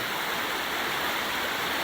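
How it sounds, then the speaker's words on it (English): Water welling up from underground into a small pool and running off to join a burn near the Inchnadamph Bone Caves in Assynt, Scotland, heard as a steady, close, rushing flow with no other sounds. "At this spot, we can see water bubbling up from underground into this little pool and running down to join the burn."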